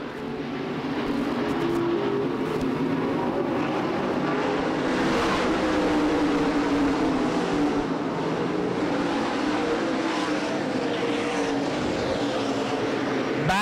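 Modified stock cars race in single file down the backstretch at Winchester Speedway, a dense continuous roar of engines sweeping past at a distance with steady loudness throughout.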